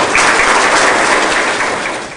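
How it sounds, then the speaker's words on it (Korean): A crowd at a special lecture bursts into dense, steady clapping as the speaker is invited to the podium, staying loud for a couple of seconds and then beginning to fade. "큰 박수 부탁드립니다"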